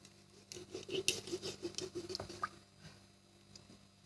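Kitchen scissors snip through the neck of a raw whole chicken, giving a run of close, crisp cutting crunches and clicks over about three seconds before fading to quiet handling.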